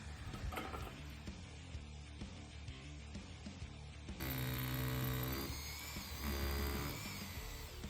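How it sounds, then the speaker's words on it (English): Power drill boring fixing holes into a wall to mount external wall insulation boards, fixings spaced 250mm apart; steady close whine that changes pitch partway through as the bit bites, with no talk. "So once you've drilled your holes"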